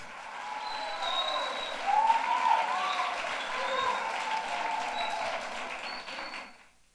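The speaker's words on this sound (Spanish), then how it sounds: "Un aplauso para Juan David, el pianista de Cultura Jones." An audience at a church event claps for a pianist, a sustained wave of applause with some cheering that swells and then fades out.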